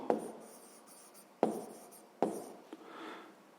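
Handwritten digits scratched onto paper during a sixth-grade math exercise, a few quiet pen strokes separated by short pauses, close and soft with no voice.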